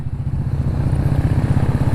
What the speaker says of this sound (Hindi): कम से कम 15 बाइकें चल रही हैं, कम से कम 15 बाइकें रुद्रप्रयाग की सड़कों पे।